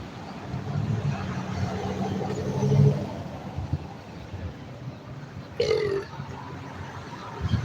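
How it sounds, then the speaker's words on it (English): A loud, low burp breaks out close to the microphone, a single drawn-out belch over faint road and engine rumble while someone drives. "I just burped out loud."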